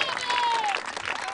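Audience applause at an outdoor piazza party in Porto Istana, Olbia, a dense clapping crowd under a voice and lingering music tones, fairly loud and steady across the short stretch.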